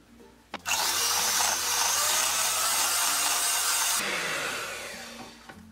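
An electric hand beater whirs steadily as powdered sugar is mixed into carrot cake batter, a loud, close motor drone that starts abruptly, holds for several seconds, then winds down.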